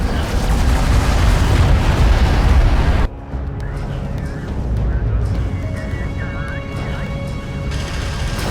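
Railgun fire and explosions in the game Homeworld: Deserts of Kharak, a loud, dense rumbling barrage that cuts off abruptly, followed by quieter booms, mechanical hum and scattered impacts.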